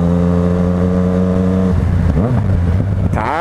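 Yamaha MT-09 motorcycle exhaust while riding, a loud, close engine drone holding a steady pitch before shifting and rising into revs, heard alone without talk.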